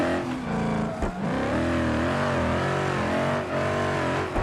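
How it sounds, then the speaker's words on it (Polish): A drift car in a racing game revs hard and continuously, its engine note rising and falling with throttle changes, loud and steady throughout with brief dips. "To jest chyba w ogóle u mnie samochód po driftu."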